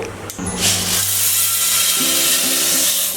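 A mixer grinder whirs loudly as it grinds roasted green gram, its motor spinning up sharply after a short click and holding a harsh, steady roar nearby.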